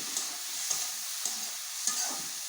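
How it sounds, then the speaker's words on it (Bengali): Spices with chili powder being fried and stirred in a pan: a steady soft sizzle with a few faint scraping stirs, close and alone. "এখন আমি এটা ভালো করে একটু ভেজে নেব।"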